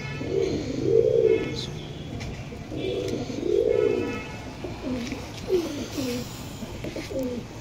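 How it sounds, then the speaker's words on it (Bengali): Rajasthani pigeons of a native breed coo in low, rolling phrases, several repeated calls close by in a loft, with a soft voice briefly audible underneath. "এটা রাজস্থানি পায়রা এটাও।"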